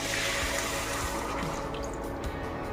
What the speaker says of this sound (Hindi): पानी हम इसमें बहुत थोड़ा डालेंगे,